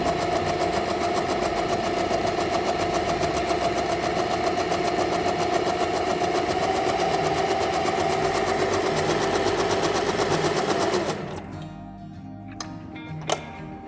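A Buona Design Venecia sewing machine stitches steadily and loudly with a fast, even mechanical rhythm for about eleven seconds, then stops, leaving a few faint ticks and clicks.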